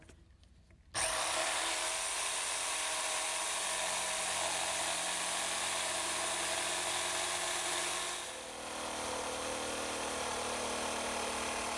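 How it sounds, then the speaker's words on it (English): A handheld jigsaw cuts through wood to shape a toe space, a loud, steady buzzing whine that starts abruptly and runs continuously, dipping slightly in pitch partway through the cut. "now I think I'll just use my handheld jigsaw to cut out that toe space"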